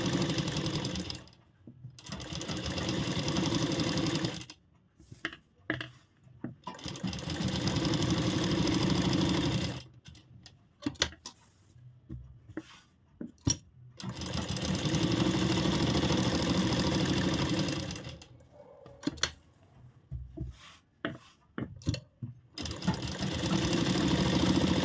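Domestic sewing machine running long stitching bursts around the edges of two layered fabric pieces for an angrakha-pattern umbrella frock, loud steady whirring runs separated by short pauses and brief stops, no talk.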